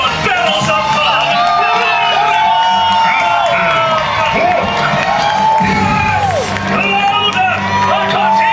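A dense crowd at a Disney villains show screams, whoops and cheers continuously, with children's shrieks rising over a loud, steady roar and a costumed host's voice carrying through the din.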